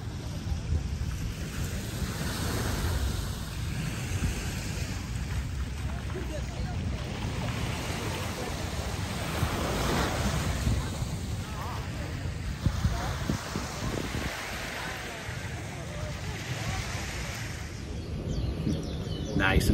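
Ocean surf washes continuously at a quiet Hawaii beach, a broad steady roar mixed with wind buffeting the microphone, with no talk over it.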